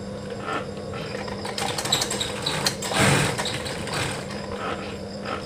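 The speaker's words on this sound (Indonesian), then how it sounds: "Lalu dijahit, nah seperti ini" A sewing machine runs steadily, joining the pieces of a hooded baby blanket, a continuous close mechanical whir with small surges and no talking.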